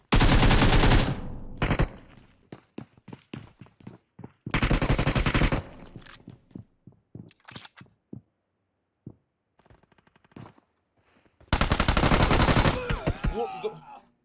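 Automatic gunfire from a newly added gun in PUBG Mobile: loud sustained bursts of rapid fire, separated by scattered single shots and distant pops, with a final long burst at close range.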